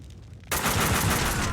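Dense, sustained gunfire in the Max Payne 2 video game bursts in loudly after a quiet half-second and continues as a steady, rapid barrage to the end, with no talk.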